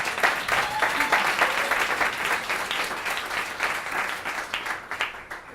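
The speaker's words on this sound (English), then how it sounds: "Why don't we give Kathy another round of applause?" Audience applause after a presentation, steady dense clapping from a crowd that holds for several seconds before thinning out at the end, with a few whistles or voices mixed in.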